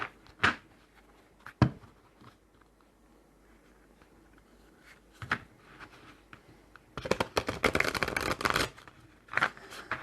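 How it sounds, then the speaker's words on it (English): Tarot of Oneness card deck being shuffled by hand, scattered brief riffles and taps, then a dense crackling flurry of cards for a couple of seconds, close up and alone. "Just show you how these shuffle."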